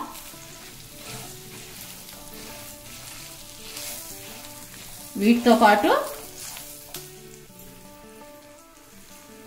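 Spices and turmeric crackle in hot oil as tempering for lemon or coconut rice, making a steady close sizzle with a brief louder flare midway while a person talks over it.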